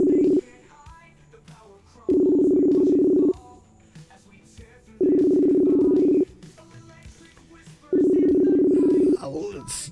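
An outgoing telephone call rings through a handset, with three long evenly spaced ring tones separated by pauses, while people talk quietly between the rings.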